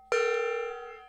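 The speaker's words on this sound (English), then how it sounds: "I'm gonna hit the gong 3 times" A small gong struck once rings out with a sharp attack and a bright, sustained metallic tone that slowly fades, heard close and alone in a quiet indoor workshop.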